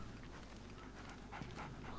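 A guard dog in the stealth video game Splinter Cell pants steadily nearby, with rapid breathy huffs running without a break over a dense, noisy game background.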